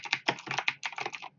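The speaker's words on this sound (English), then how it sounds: "I'm sorry about my Razer keyboard." Rapid typing on a Razer computer keyboard, a steady run of close, crisp key clicks and clacks in uneven bursts, with no talking.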